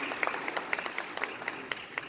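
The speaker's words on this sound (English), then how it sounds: "Round of applause, please." Scattered, fairly faint applause at a business event, with individual sharp claps standing out at an irregular rhythm over a soft background wash.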